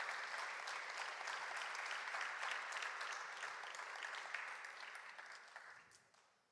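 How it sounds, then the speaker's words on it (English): An audience applauds a student award winner at the Michigan Student Film Festival senior awards, dense even clapping that holds steady and then tapers off toward the end. "Let's give Farah a round of applause"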